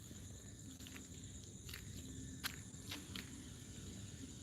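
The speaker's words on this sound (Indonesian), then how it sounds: "Yang ada cuma kodok. Bunyi kodok, jangkrik." Night chorus of frogs and crickets in Sorong, Papua: a faint, steady insect trill with scattered croaks and chirps over a low ambient hum, distant and quiet.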